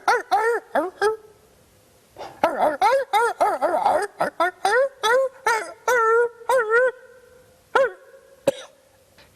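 A man imitates a dog barking, giving a rapid series of throaty yaps and woofs in bursts with short pauses, close and loud, with a few drawn-out howl-like calls near the end.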